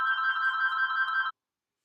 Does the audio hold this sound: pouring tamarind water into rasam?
no